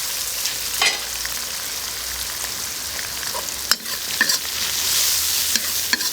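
Sichuan peppercorns and pickled chilies stir-fried in hot oil, a continuous moderate sizzle with occasional sharp spatula scrapes against the wok, and no voices.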